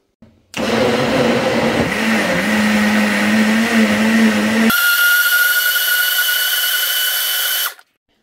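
An electric blender whips up a strawberry banana smoothie, roaring loudly and steadily for about four seconds before jumping to a higher, smoother whine at a faster speed, then stopping.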